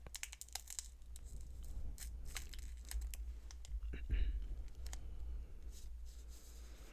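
Close, crisp scissor snipping and crinkling of a stiff Pokemon card pack, irregular cuts and rustles with a quiet voice briefly underneath.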